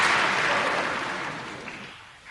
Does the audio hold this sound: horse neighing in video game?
no